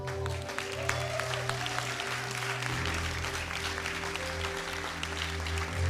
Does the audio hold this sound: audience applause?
yes